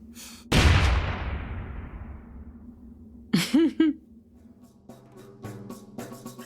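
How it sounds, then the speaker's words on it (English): An explosion in the background of a Cypher System tabletop actual play sets off one loud blast near the start that rumbles away slowly. Breathy vocal gasps and scattered softer clatter follow. "If you hear an explosion in the background,"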